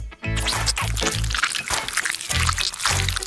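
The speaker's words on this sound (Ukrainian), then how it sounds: "Всередину заливаємо смачний сироп." Syrup poured into a clear round plastic mold, a short liquid pour of a few seconds with glugging, bubbling pulses close to the mic.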